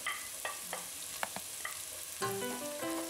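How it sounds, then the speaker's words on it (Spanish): Chopped vegetables for a homemade Italian Bolognese sauce fry in a pan with a steady broadband sizzle, broken by a few sharp utensil clicks and a brief scraping stir near the end. "Es importante que la vamos a dorar bien esa verdurita"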